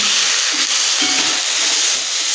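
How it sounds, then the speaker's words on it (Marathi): Tomatoes and cashews sauté in a pan for a restaurant-style paneer masala, producing a loud, continuous close-up sizzle with faint stirring underneath. "आता हे ही आपल्याला टोमॅटो मऊ होईपर्यंत परतून घ्यायचे आहे"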